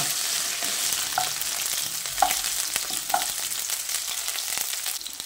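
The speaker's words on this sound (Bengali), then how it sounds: "আলুটা দিয়ে ফোড়নের সঙ্গে 2 মিনিট মতো হালকা করে ভেজে নিয়েছি।" Potatoes fry with tempering spices in hot oil, giving a continuous bright sizzle with a few soft spatula knocks, close and steady, with no talking.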